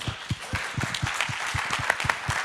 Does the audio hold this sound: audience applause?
yes